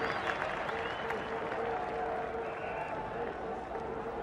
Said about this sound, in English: This big crowd know that Glenn McGrath is having a big year for Australia. Appreciate that great effort